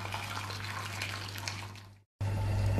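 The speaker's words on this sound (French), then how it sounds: "On va les passer dans l'eau bouillante pendant une trentaine de secondes" Water bubbling and gushing in a pot as tomatoes go into boiling water for a quick blanch, a steady hiss with a constant low hum, cut by a brief silence before resuming louder.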